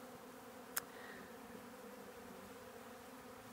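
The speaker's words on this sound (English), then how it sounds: "today I see how the bees are collecting honeydew exactly from the plants that they have insects on them" Honey bees collecting honeydew on plants outdoors, a faint, steady buzzing hum of insects, with a single brief click near the start.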